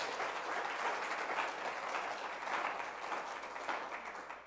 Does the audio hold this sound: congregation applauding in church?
yes